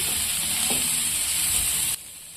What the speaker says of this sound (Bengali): ভালো করে আলুগুলো নাড়াচাড়া করে নিচ্ছি আমার ভাজা ভাজা হয়ে গেছে